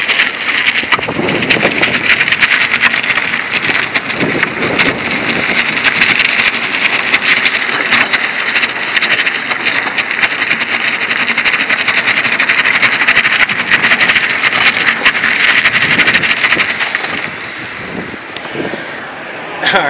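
A BMW E36 convertible with a welded rear differential makes a sustained, loud noisy drone at low speed while turning, with dense broadband engine and tyre sound filling the whole stretch and easing slightly near the end.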